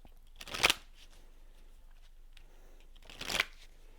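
A deck of love message cards gets shuffled in two quick riffling bursts, close and crisp, separated by near silence.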